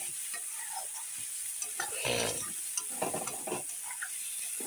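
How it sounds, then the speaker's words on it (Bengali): Water poured into hot oil and fried spice paste for a pabda fish curry sets off a loud, steady sizzle that swells into a short burst of spattering, then settles back to a crackling simmer, with no talk. "এখন আমি জল দিই"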